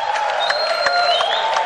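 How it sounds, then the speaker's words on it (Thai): Chinese spectators applauding at a Muay Thai fight, a dense wash of clapping from a crowd over a short stretch, loud and steady, with a voice heard over it. "เสียงปรบมือเนี่ยเป็นเสียงปรบมือของชาวจีนนะครับ"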